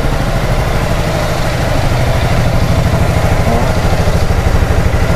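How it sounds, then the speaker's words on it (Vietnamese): A KTM RC motorcycle engine idles steadily up close, giving a loud, even low-pitched chugging pulse with no revving across the whole stretch. "anh em nghe tiếng máy nổ nổ êm không"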